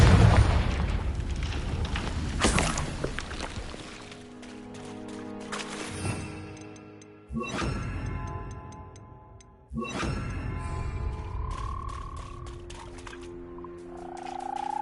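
Spells cast in the Hogwarts Legacy video game, with a Confringo fire blast among them, go off as several loud booming explosions, each bursting out sharply and then fading, amid game sound effects.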